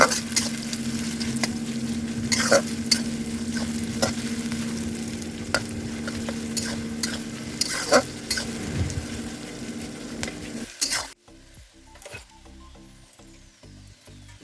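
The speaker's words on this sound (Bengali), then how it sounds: "পেঁয়াজ কুচোগুলো দিয়ে ভালো করে কিন্তু নাড়াচাড়া করে পেঁয়াজটাকে ভেজে নিতে হবে" Chopped onions stirred and fried in a pan, a steady close sizzle with repeated scraping and clinks of the spoon, ending abruptly as the frying noise drops away near the end.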